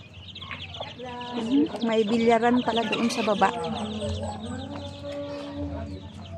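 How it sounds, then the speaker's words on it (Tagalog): Chickens cluck and squawk nearby in a busy burst at a cliffside resort in Bukidnon, Philippines, while a person talks over them. "Oh, may mga manok pa."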